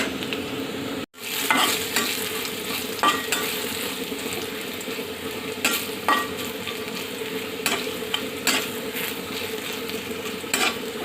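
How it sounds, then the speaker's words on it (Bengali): Onion, chilli and garlic fry in oil until brown, a loud, close sizzle broken by regular spoon scrapes and stirring knocks against the pan after a brief cut at the start. "এখন পেঁয়াজ, মরিচ, তারপর হচ্ছে রসুন সবগুলো একদম বাদামি করে ভেজে"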